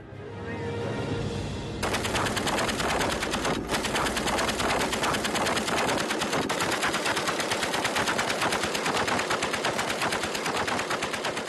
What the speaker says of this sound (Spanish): Karin Manhau dispara contra el tronco del árbol con la ametralladora Maxim